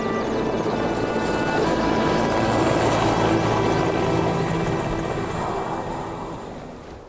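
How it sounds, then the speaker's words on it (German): A helicopter thuds with a steady rotor throb and engine whine in a remote Yamal setting, loud at first and then fading gradually as it flies off. "Und so plötzlich, wie er hierher gekommen ist, verschwindet der Hubschrauber auch wieder."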